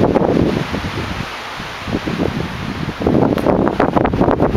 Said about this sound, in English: It's nice and breezy, so it's staying cool.